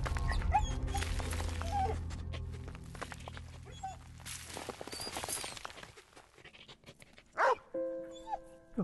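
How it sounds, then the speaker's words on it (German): A dog in the video game Valiant Hearts: The Great War barks, yips and whimpers in short bursts over busy game sound, with a German voice talking around it. "Das Hundele hilft uns."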